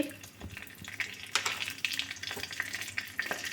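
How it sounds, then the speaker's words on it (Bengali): Panch phoron spices hitting hot oil after pumpkin was fried in it, a close crackling sizzle with sharp pops and stirring scrapes throughout. "এবার এই তেলে আমি পাঁচ ফোড়ন দিয়ে দিচ্ছি"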